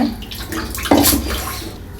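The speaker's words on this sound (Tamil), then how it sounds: "இன்னும் கொஞ்சம் தண்ணி சேர்த்துக்கலாங்க." More water splashes into a pan of paneer butter masala gravy, a close, steady pouring gush that swells midway and then tapers off.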